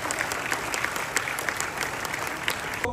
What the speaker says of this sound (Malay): Kita bagi tepukan gemuruh juga kepada mereka semua.